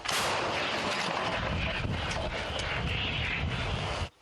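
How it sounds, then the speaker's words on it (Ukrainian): Heavy artillery fire from Ukrainian gun crews on the front line booms in short series as a continuous, rolling roar, with sharp blasts inside it and an engine-like drone underneath. It sounds moderately distant. "Гармаші стріляють короткими серіями, так їх важче помітити."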